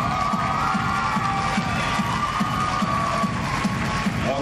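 A crowd at a karate demonstration show cheers and applauds continuously. The thick, steady roar of voices and clapping has a faint regular beat running beneath it.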